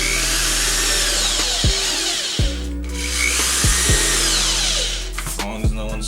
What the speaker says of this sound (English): Well, drilling into my car.